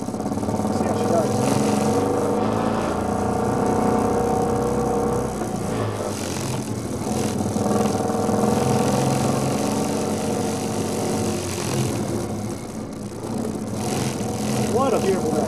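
A BMW Isetta bubble car on a road test drive, its small engine droning steadily and loud throughout with shifting pitch, while someone talks over it.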